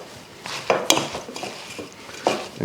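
Spoon mixing cacao powder, condensed milk and desiccated coconut in a bowl, with close, irregular scraping and clinking strokes against the sides and base and a few sharper knocks, no voice over it.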